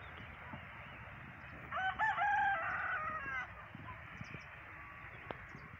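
A village rooster gives one clear crow lasting about two seconds over a quiet outdoor background, with faint scattered clucks and small knocks around it.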